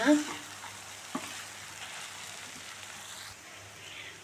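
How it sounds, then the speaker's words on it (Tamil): Bread chilli frying in a pan while being stirred, giving a soft continuous sizzle with a couple of brief scraping knocks from the spoon, close and fairly quiet, with no talking. "இதை போட்டு லைட்டாக நல்லா கிளறி விடுங்க."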